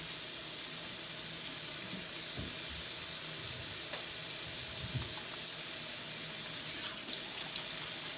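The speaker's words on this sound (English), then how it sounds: "I am going to go ahead and wash my hands." A kitchen sink tap runs steadily as hands are washed beneath it, a continuous close splashing hiss with a few brief knocks and splashes, no talking.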